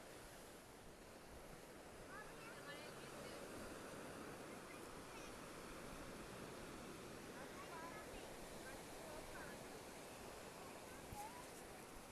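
Sea waves at Meia Praia beach in Itapema wash onto the sand in a continuous, soft roar. They sound faint and distant, with light wind noise over them.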